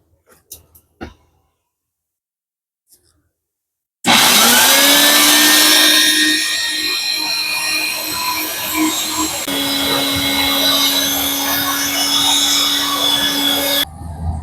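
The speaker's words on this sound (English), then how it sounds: "All right, let's vacuum up the water." A vacuum cleaner starts after a few quiet knocks and runs loud and close for about ten seconds as it sucks up water, with a steady whine that shifts pitch partway through before it shuts off.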